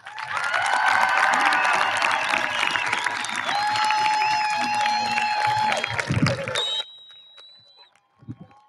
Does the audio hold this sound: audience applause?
yes